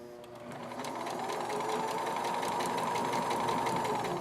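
A sewing machine stitching fabric along a 5/8 seam guide for a pinned school sewing project, running as a continuous close mechanical whir that builds up quickly and holds steady, with no talking.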